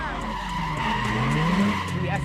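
Car tires squeal loudly and continuously in a burnout at a street race, a harsh wavering screech over a droning engine, right up close, with voices shouting over it.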